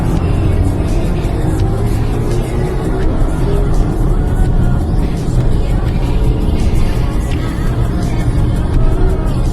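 BMW i4 M50 electric car on a fast race lap, a steady loud rush of wind, tyre and road roar with a faint motor whine and no distinct engine note.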